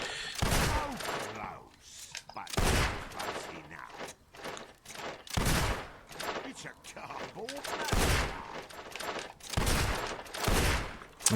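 Gunfire in the video game Fable 2, a series of loud sharp shots spaced about two seconds apart, each with a trailing echo.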